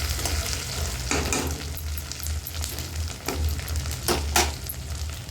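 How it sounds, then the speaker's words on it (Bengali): Onion, garlic and ginger sizzling steadily in a pan, a continuous close frying hiss with occasional scraping stirs and clinks of a utensil, with no talking. "পেঁয়াজ রসুন আদা ভালো করে ভাজা হয়ে গেছে"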